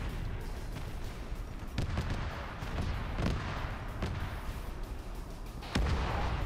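Creeping artillery barrage in a large-scale multiplayer war video game, a rolling rumble of distant and mid-range blasts with several sharper booming impacts spaced irregularly over a continuous low roar.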